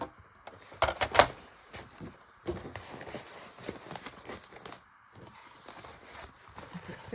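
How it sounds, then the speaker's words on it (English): Material being cut while packing a Halloween happy mail swap, giving a run of close, irregular snips and rustles with brief pauses between bursts. "Just going to cut some off."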